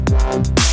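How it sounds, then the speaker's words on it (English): Synth bass patch from the Caustic app with bandpass filter automation, two punchy notes whose filtered tone sweeps down from bright to deep, loud and clean with no talking. "Now here it is with a bandpass automation."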